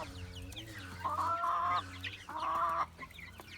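Young chickens, out outdoors for the first time, cluck in two loud bursts of nasal, drawn-out calls, with softer clucking and rustling between them, close by.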